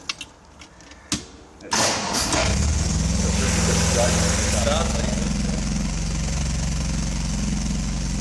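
An MGB B Series car engine with the choke pulled out cranks and catches after a few soft knocks, then runs at a loud, steady idle close by.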